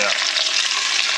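Three sausages sizzle in a little oil over a Trangia camping stove, a steady, close crackling hiss that fills the short moment without pause and with no voices over it.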